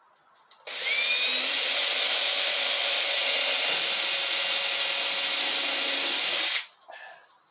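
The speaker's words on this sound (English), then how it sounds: "We're going to take our drill." Power drill bores into wood while building a chuck wagon adventure trailer, a steady high whine that starts abruptly, holds for about six seconds with a slight rising pitch, then cuts off, loud and close with no talking.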